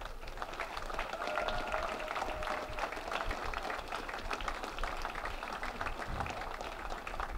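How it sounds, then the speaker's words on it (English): Faint, steady applause from the audience at the 2017 Enfield Athletic Hall of Fame induction ceremony honoring the inductee class, distant clapping continuing evenly with a low murmur of crowd noise. "I think there's enough applause left for one more round for the class of"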